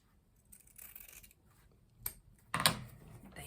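Scissors snip ribbon into a dovetail end for a deco mesh wreath, a few soft close cuts ending in one sharper crisp snip, quiet and without talk.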